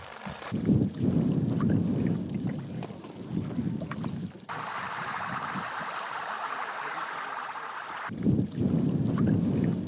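Spring water wells up and spills at Hierve el Agua in Mexico, a steady close rushing and trickling wash with outdoor wind noise and no voices.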